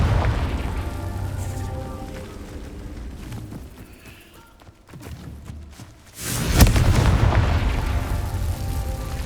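Blasting spell explosions in the Hogwarts Legacy video game: a series of booming blasts with rumbling low end, a quieter lull midway, then a sharp loud detonation followed by sustained heavy crackling and roar.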